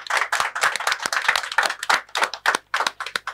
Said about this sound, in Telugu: క్లాప్స్ తోటి దీన్ని వెల్కమ్ చేద్దాం.